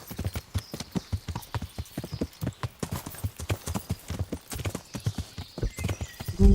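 Rapid, regular clip-clop of a horse's hooves at a brisk gait while riding in Kingdom Come: Deliverance, close and crisp, continuing steadily throughout without speech.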